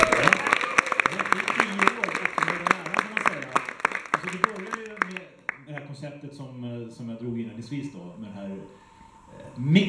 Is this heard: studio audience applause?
yes